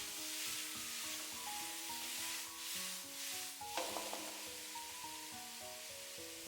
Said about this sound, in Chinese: 再將焯好水的蘑菇倒進去，快速的翻炒均勻